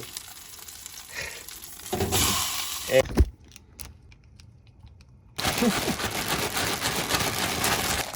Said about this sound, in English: Best salmon sound in the entire world.